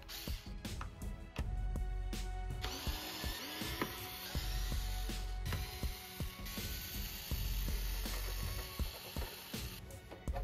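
Screws being removed from the panels and wheel assembly of a JBL PartyBox 710 speaker during a teardown, heard as a close, continuous whirring of a small driver with repeated ratcheting and mechanical clicks.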